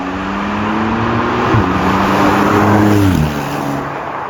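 A Porsche 911 (992) Carrera 4 GTS's 3-litre twin-turbo flat-six drones with a smooth, throaty hum, rising briefly in pitch as it accelerates and shifts its 8-speed PDK gears, heard from inside the car.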